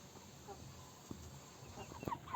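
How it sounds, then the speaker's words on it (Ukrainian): Chickens cluck softly in short, scattered bursts nearby, quiet against faint background noise, with no one talking. "Зараз я покажу вам курочок."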